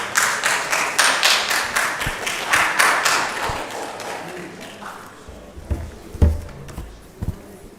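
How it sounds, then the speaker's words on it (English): An audience gives rhythmic applause for a hackathon team at an academic awards event, loud and close at first, then thinning into scattered claps and thumps that fade over several seconds. "Let's clap for them"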